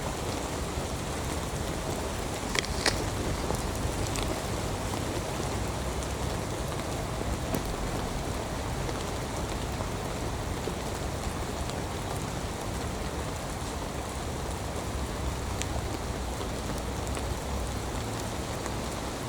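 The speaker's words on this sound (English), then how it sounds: "I love the sound of rain." Steady rain falls throughout, a dense, even patter of drops on surfaces, close and constant with no voices.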